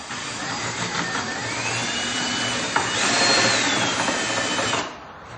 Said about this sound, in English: looks like we need to drill out this hole a little bit more